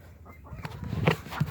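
Chickens at a farm coop give a few soft, low clucks close by against quiet outdoor background noise, short and irregular over a second and a half.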